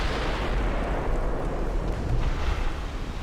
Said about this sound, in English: We had a detonation aboard.